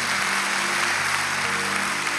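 A congregation at a church worship service claps steadily, a dense, even wash of applause that continues without a break across the short span.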